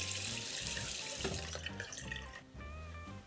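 Water running steadily from a bathroom tap into a sink while washing up, a continuous close rush that shifts pitch and splashes as hands move under the stream, with no talk.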